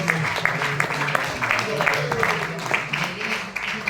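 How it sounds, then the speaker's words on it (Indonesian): Applause from an audience at a school Christmas celebration, scattered clapping mixed with voices and crowd murmur, fairly close and moderately loud. "Tepuk tangan semuanya."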